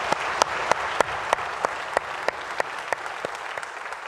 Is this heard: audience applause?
yes